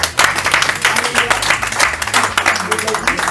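An audience at a press conference gives loud, dense applause throughout, many hands clapping at once with a steady rattling texture, close and full.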